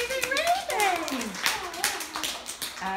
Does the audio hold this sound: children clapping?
yes